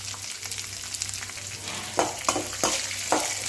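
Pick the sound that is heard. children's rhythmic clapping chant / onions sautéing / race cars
onions sautéing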